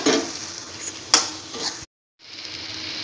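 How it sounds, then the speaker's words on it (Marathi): Washed soybeans are stir-fried in masala in a pan, giving a moderate, close sizzle with a few sharp utensil scrapes and clinks, broken by a short silent gap before the sizzle resumes. "सोयाबीन टाकून आपण हा मसाला चांगला परतून घेतला आहे."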